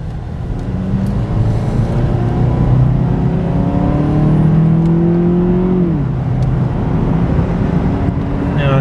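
Cabin sound of a 2014 Cadillac CTS 2.0 Turbo AWD cruising a straight road at about 50 mph, a loud, steady engine and road drone with a rising and falling whine and no speech.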